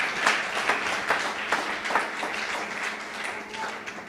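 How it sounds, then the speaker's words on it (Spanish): Congregation at a church service applauds Sister Ingrid, a moderate and fairly even spread of clapping from many hands in a reverberant room, continuing steadily throughout without speech. "Com um aplauso ao Senhor para a irmã Ingrid."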